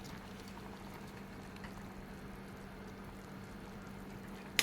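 Tulingan fish soup with cabbage bubbles in a pot, a faint, steady simmer with a low hum underneath and a brief click at the very end.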